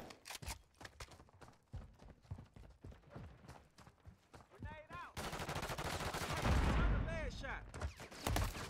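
Rapid bursts of gunfire in Call of Duty Modern Warfare III, crackling shots and clattering impacts that build into a louder, dense barrage toward the end, with a voice talking over parts of it.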